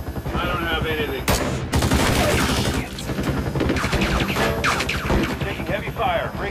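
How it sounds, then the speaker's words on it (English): Heavy automatic gunfire rattles in dense bursts throughout, loud and close, with voices faintly mixed in during an evasive military flight. "Breaking formation to evade fire. Taking fire."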